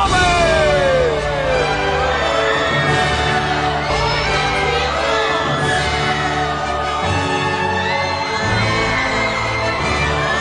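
A crowd cheers and whoops loudly for a couple being introduced at a wedding-style show, with shouts and excited voices continuing steadily throughout.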